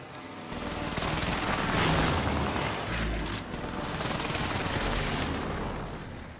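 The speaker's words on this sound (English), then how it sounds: "Precision airstrike missed." Dense, continuous barrage of explosions and rumbling blasts from a precision airstrike in a video game, loud and sustained throughout with heavy low-end booms and no clear gaps.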